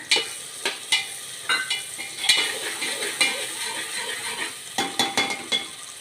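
Soaked chickpeas tip into a hot pan for Kathiyawadi khichdi and fry with a sizzling hiss, with repeated stirring scrapes and clinks against the pan up close and no one talking.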